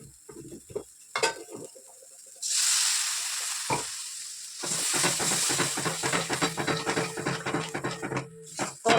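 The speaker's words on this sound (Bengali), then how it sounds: "এবার জল ঢেলে দেবো হয়ে গেছে কষানো" Water is poured into a sizzling, spiced banana-flower curry in a pan, bursting into a loud hissing rush of steam after brief stirring clatter, then settling into a steady bubbling sizzle with spoon scrapes.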